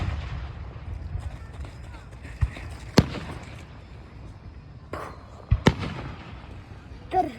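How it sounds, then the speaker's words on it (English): Fireworks launched at Lapeer going off, with several sharp, loud bangs standing out over a steady background rumble and crowd noise. "I keep on shooting these things."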